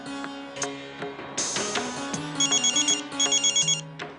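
A mobile phone left lying in a home rings with a bright melodic ringtone, a short tune of sustained notes followed by rapid repeated chirping beeps, clear and close with no talking over it.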